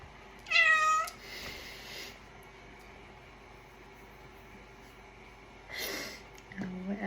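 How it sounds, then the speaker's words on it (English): A house cat meows loudly and close in one drawn-out cry, then a quieter second call follows after a stretch of low room hush. "Oh, we have another kitty that wants to visit."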